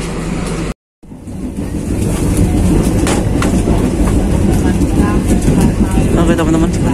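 A KA Dharmawangsa passenger train, an economy service between Surabaya Pasar Turi and Pasar Senen, rolls along the rails near Jatinegara with a steady rumble and a faint clickety-clack, heard from inside the car after a brief cut.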